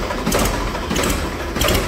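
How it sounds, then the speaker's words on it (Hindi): A Ford tractor engine runs close by, a loud, continuous mechanical chugging with rapid rhythmic knocking. "वाह क्या शानदार आवाज है फोर्ड की"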